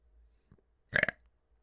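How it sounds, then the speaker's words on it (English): A single loud, close burp with a short rumbling body, preceded by a faint brief throat noise, with no talking. "I have so many burps in my belly right now."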